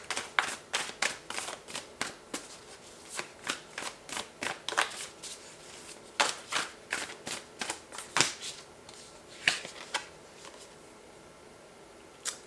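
A deck of tarot cards is shuffled by hand, close and crisp, in a steady run of soft riffling slaps and flicks that repeat about once a second with occasional quicker flurries.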